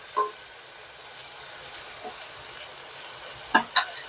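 Capsicum and tomato sautéing in a pan for a quick homemade pasta, giving a soft steady sizzle with faint stirring scrapes and a couple of louder clinks near the end.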